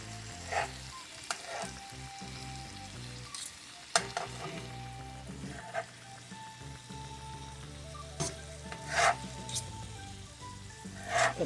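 Bite-sized chicken chunks sizzle steadily in a cast iron skillet, a continuous close frying hiss broken by occasional scrapes and clatters of stirring, with no talking.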